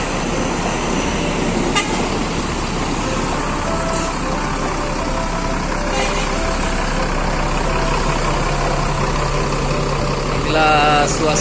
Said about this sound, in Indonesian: Untuk menyaksikan keberangkatan bus NPM B60.